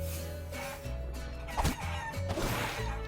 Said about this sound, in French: La maison est envahie par les poules.